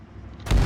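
A missile strikes in the Arma 3 video game and bursts into a sudden loud, booming explosion after a short quieter stretch, close and abrupt.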